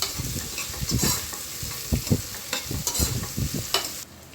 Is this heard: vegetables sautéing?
yes